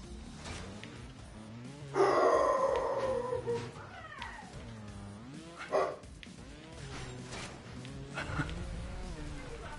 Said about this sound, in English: Every time you come on my stream, you always hear my dog.